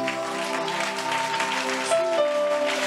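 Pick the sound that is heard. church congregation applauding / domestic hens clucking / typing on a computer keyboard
church congregation applauding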